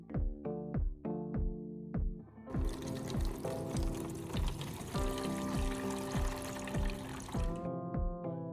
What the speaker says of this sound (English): I will rinse the interior twice with clean water